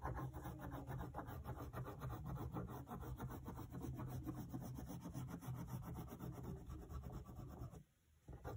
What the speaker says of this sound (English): I want to press really hard with my crayon